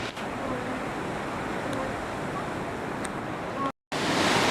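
Waves wash steadily against a seafront breakwater on the England coast path. The sound is a continuous broadband surf roar, mixed with wind buffeting, and is interrupted by a brief cut near the end.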